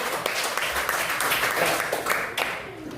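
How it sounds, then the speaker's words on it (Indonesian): A classroom of students applauds a student group in a dense, continuous burst of clapping with voices mixed in, tapering off near the end. "sekali lagi tepuk tangan buat kelompok lagi"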